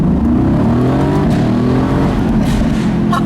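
A 2018 Mercedes-AMG GT C Roadster engine pulls through a low-speed rolling acceleration, a loud, close, deep growl whose pitch climbs steadily, with faint crackles near the end and no talking.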